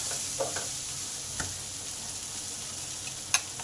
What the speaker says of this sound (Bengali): এবার ঝিঙেগুলো ভালো করে আলুর সঙ্গে একটু কষে নেব কষতে কষতে ঝিঙে সেদ্ধ হয়ে যাবে